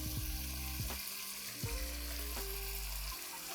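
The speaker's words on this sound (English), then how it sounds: "Let's give this a quick stir and ensure that the meat kind of sears on all the sides." Mutton sears with onions and salt in a pan, a faint, steady sizzle with soft scraping stir strokes at roughly regular intervals.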